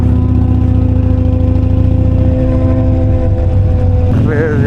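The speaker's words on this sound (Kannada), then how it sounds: "ಬೆಸ್ಟ್ ಫೇರಿಂಗ್ ಬೈಕು ಮತ್ತು ಬೆಸ್ಟ್ ನೇಕೆಡ್ ಬೈಕ್ ಅವೆರಡ್ರೂ ಕೇಳಿಸ್ಕೊಳೋದೇ ಒಂದು ಮಜ ಹೋಗಿ ಕ್ರೇಜಿ ಲೌಡ್ ಇತ್ತಂತೂ" Loud sport motorcycles, a faired bike and a naked bike, rumble and rev continuously up close, a deep throbbing drone with a rising whine near the end.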